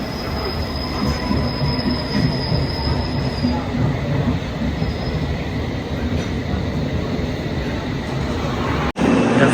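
Steady, loud roar of a London Underground or Overground train in motion, with wheels squealing on the rails throughout and a brief cut near the end.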